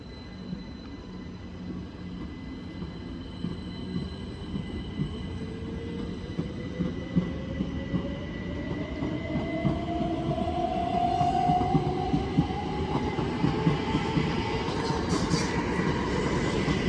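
A c2c Class 357 electric multiple unit pulls away from Barking station, its rising motor whine climbing steadily over a dense rumble and clatter of wheels that grows louder as the train gathers speed.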